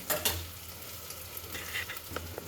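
Tomatoes frying with mutton in a pan in a home kitchen give a soft, steady sizzle, broken by a few louder scrapes and clinks of stirring near the start and end.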